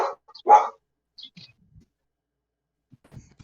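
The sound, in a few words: person imitating a dog barking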